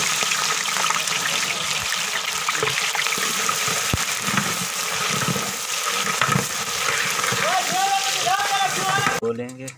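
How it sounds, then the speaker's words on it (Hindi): Onions tipped into about three kilograms of hot ghee in a large cooking pot set off a loud, steady, close sizzle that runs throughout, with a voice speaking over it near the end. "अब इसमें हम प्याज डालेंगे।"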